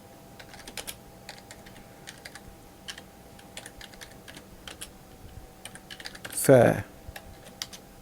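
Keys tapped on a computer keyboard to enter a prompt, light scattered clicks in short bursts at low level, with a brief spoken word near the end.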